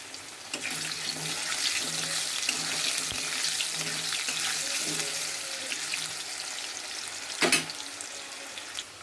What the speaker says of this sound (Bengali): আলুগুলো ভাজার মধ্যে একটুখানি আমি পরিমাণ মতো নুন দেবো